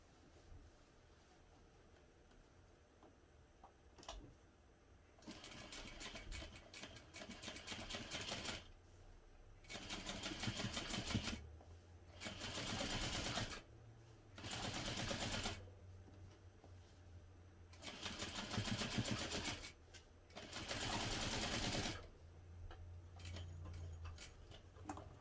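A sewing machine top stitches an accent stripe on fabric in several separate bursts of fast, even mechanical chatter, separated by quiet pauses, heard close up with no talking.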